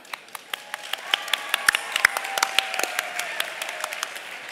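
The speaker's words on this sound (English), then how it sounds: "give a huge round of applause for everyone who made this event possible" Steady applause from an audience at a school Scholar Bowl trivia competition, with many hands clapping in a dense, even patter that swells slightly midway and continues throughout.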